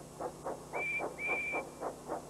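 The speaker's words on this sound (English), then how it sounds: "Percy blows his whistle to help Thomas find him." Percy the tank engine, a cartoon steam locomotive, blows two clear, sustained steam whistle toots over a steady rhythmic chuffing of his engine.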